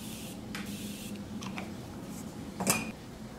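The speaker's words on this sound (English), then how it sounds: "I'm gonna add a little bit more spray." A few short hissing sprays from a makeup setting spray pump bottle, quiet and close, with a louder burst near the end over a faint background hum.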